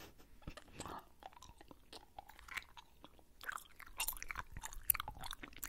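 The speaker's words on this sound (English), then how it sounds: "You like that chewy sound?" Close-up chewing of a unicorn-shaped Gummi Pop candy, soft sticky mouth and crunchy bites in an irregular run, with faint whispery sounds between them.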